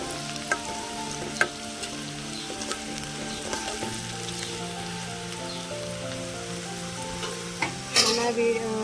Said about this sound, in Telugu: ఉల్లిగడ్డ పచ్చిమిర్చి బాగా నూనెలో వేగాలండి.